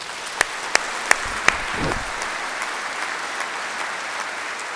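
Steady applause from a congregation fills a cathedral in Dakar during the opening Mass of the 2025 Holy Year, a continuous reverberant patter with a few sharper claps near the start, heard alone without talk.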